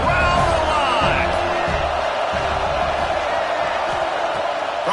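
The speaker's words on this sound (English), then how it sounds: "Third down, red zone play. Crowd alive." A football stadium crowd roars steadily through a third-down red zone play in a Florida versus USC game, a dense, continuous wash of cheering and shouting with scattered whoops, loud and unbroken throughout.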